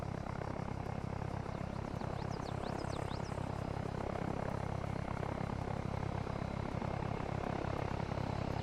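Helicopter in the video game Arma Reforger heading in to land at a courtyard helipad, a steady loud rotor and engine drone running throughout with no talk.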